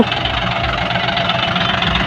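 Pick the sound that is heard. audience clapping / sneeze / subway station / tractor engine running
tractor engine running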